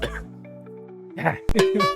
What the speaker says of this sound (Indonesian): batuk lagi